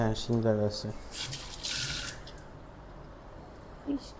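Fish being washed under running tap water in an apartment kitchen in Goa, a brief rush of water following a moment of speech, then low background noise with a small splash near the end.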